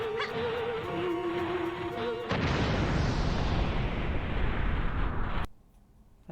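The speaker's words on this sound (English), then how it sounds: "big explosion sound" Using an earth scroll in a video game sets off a big explosion: a sudden loud, broad blast cuts across buzzing game music and roars for about three seconds before dropping off sharply into near silence.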